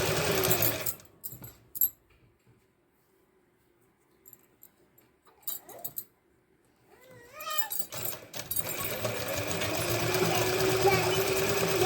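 A sewing machine stitches pintucks into a pant hem in short bursts of rapid mechanical whirring, with pauses between runs and then a longer continuous stretch, while someone talks at intervals.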